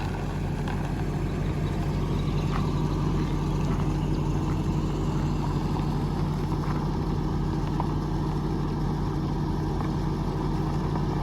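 A truck hauling a trailer idles with a constant, steady low engine rumble throughout, close and unbroken, with no voices.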